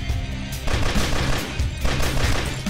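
Rapid automatic gunfire from a video game bursts loudly in quick repeated shots, with a brief pause before the firing resumes for the rest of the couple of seconds.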